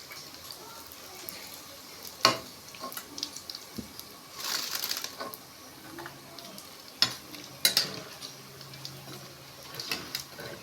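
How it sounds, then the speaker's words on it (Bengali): Fuchka frying in oil at a village cooking spot, heard as a low, steady sizzle with scattered ticks and clatters from stirring, fairly quiet and without speech. "ফুচকা ভাজা চলছে"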